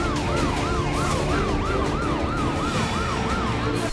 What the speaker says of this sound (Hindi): एक के बाद एक एम्बुलेंस घायलों को अस्पताल पहुंचा रही है।